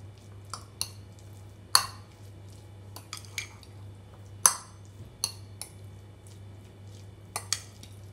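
A utensil scraping and clinking against a bowl while diced onion is mixed into a mayonnaise filling, a dozen or so scattered clicks and taps over a low steady hum, close but fairly quiet.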